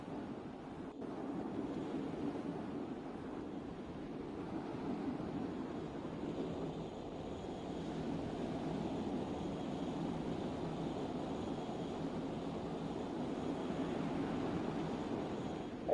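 Wind blowing in the Roblox Shipping Lanes game, a steady broadband rushing roar like a distant airplane, continuous and even for the whole stretch with no voices.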